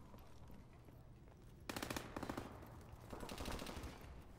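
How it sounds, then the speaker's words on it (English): Rapid bursts of automatic gunfire from another player in Call of Duty Advanced Warfare crackle in two volleys, the first sharp and close, the second longer and rattling, over faint game ambience. "Whoa, who's shooting at me?"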